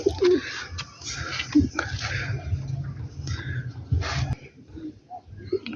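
Pure-bred pigeons, including a pure dub female, cooing in a loft, soft throaty coos repeating close by over steady low background noise, with someone talking intermittently.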